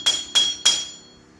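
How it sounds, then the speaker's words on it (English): Three sharp metallic hammer taps on the back of a Jeep wheel hub, evenly spaced about a third of a second apart, close and ringing briefly before fading. "Take the hammer, tap on the back of this."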